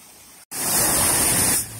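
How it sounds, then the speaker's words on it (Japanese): A roadside waterfall in Iwate, Japan, heard as a steady, loud broadband rush of falling water that starts abruptly after a brief silence, holds for about a second, then drops back to a quieter background. "道路沿いにある見やすい滝なんです。"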